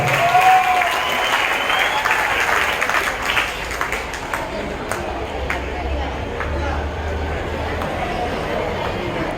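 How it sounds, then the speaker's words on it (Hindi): Loud applause from children at a Children's Day 2022 school event, a dense wash of clapping that runs steadily throughout, with a voice briefly audible near the start. "इनका जोरदार तालियों से स्वागत किया जाए।"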